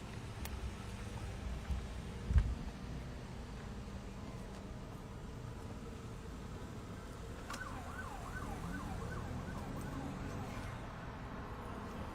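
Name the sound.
emergency vehicle siren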